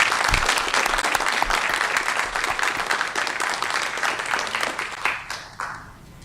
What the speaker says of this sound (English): if we could just give the kids another round of applause,